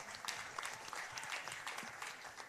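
Audience applause at an intellectual property and music industry event, a dense, steady wash of many hands clapping at moderate distance, sustained without pause throughout.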